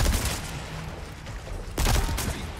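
Gunfire in Resident Evil 4's Separate Ways, aimed through bars: a loud rattling burst at the start, then a second close, heavy burst about two seconds later.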